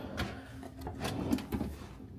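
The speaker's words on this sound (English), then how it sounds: "Ooh, soft closed drawers." A soft-close drawer in a penthouse studio slides shut, a quiet brief sequence of sliding rumble and a few soft knocks as it eases closed, heard alone and fairly faint.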